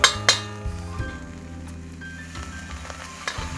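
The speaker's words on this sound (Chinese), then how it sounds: "煸炒一下" Scallion and minced ginger stir-fried in hot oil in a wok sizzle steadily up close, with a couple of sharp metallic clinks at the start.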